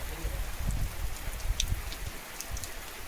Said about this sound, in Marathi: आत्ता बारीक बारीक पाऊस चालू झालेला आहे